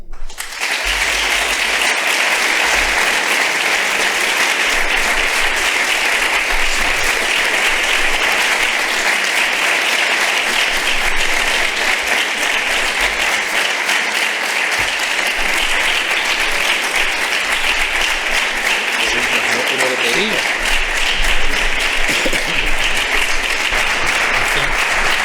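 A large audience applauds at a Catholic popular-religiosity conference in Spain, a loud, dense, sustained clapping that fills the whole stretch without pause, no voices standing out above it.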